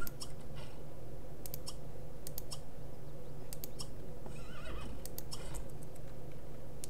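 Horse in The Sims 3 whinnies with a wavering cry partway through, set against steady game background sound and scattered light clicks.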